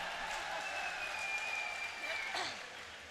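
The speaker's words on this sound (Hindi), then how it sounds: "तभी तो ताली बजी है" An audience at a mushaira, an Urdu poetry gathering at Nauchandi in Meerut, claps steadily in a dense, distant wash of applause that fades near the end, with faint voices mixed in.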